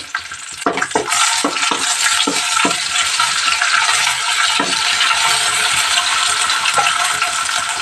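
Mutton curry base frying with onions, mint and ginger garlic paste in a pan. Loud, steady sizzling runs throughout, and several sharp metal spoon clinks and scrapes come near the start. No one speaks.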